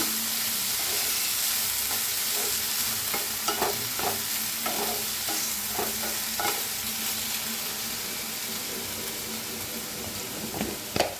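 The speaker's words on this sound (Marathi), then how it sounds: "हलकसं भाजून घ्यायचं" Sprouted moth beans (matki) dry-roasting lightly in a pan for a chaat, with a steady soft sizzle and repeated scraping stirs of a spatula throughout, close and fairly quiet, no talking.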